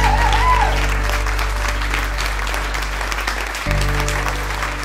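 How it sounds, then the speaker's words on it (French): An audience at a high school graduation ceremony applauds two deputy principals, a steady wash of clapping that fills the hall, carried over a low amplified hum with a brief dip near the end. "c'est important ce soir que mes deux adjoints exceptionnels aient une main d'applaudissement pour tout"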